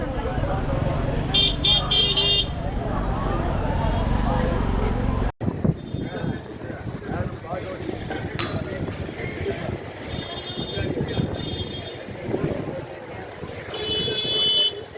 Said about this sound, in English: That looks like a local bus.